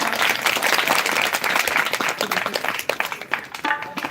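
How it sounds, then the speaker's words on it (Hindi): Audience applause welcoming a guest at a live Ram Katha religious gathering in a village, dense and loud for several seconds before thinning into scattered claps near the end. "तालियों से स्वागत।"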